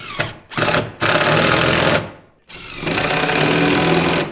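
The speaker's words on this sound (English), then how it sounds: "we're going to attach it by putting some screws on the inside to pull it" Power drill driving screws into a kitchen island cabinet end panel, several loud, steady whirring bursts with short pauses between them, close and alone.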